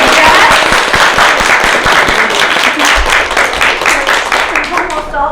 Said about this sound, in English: let's give Frances a round of applause